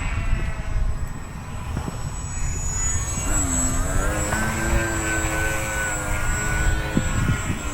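Foamboard Yak 55 RC 3D aerobatic plane in flight outdoors, a steady electric propeller whine rising and falling in pitch as it maneuvers, with wind noise constant underneath throughout.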